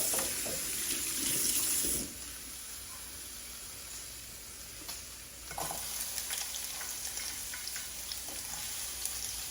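Oil poured into a hot pan hisses into a steady, close sizzle, loud at first and then settling into a softer frying crackle, with a few small clatters along the way.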